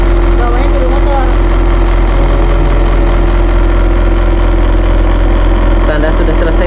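A motorized rotating machine used for sanding during archival preservation work runs with a steady, loud, close motor hum throughout, while people talk over it.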